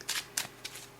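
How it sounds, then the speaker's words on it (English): A springy tarot card deck (Animism Tarot) being shuffled up close, three quick papery riffle bursts in a row with no voices. "when you go to shuffle the deck, you get this wonderful bend, very springy action"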